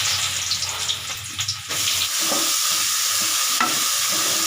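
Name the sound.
elephant foot yam frying in oil with mustard seeds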